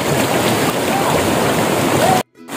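Stream water rushes steadily along the trail toward Penchalakona waterfall, a loud, close, continuous wash that drops out abruptly near the end before returning.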